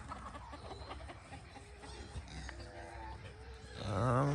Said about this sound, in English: One of my wandering roosters.